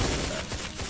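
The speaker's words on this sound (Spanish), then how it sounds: "Yo estoy todo el rato pulsando con el botón de disparo" Rapid gunfire from shooting in the tower-defense horde-survivor video game Road Defense Outsiders, a dense continuous fusillade of overlapping shots throughout, fairly quiet in the mix.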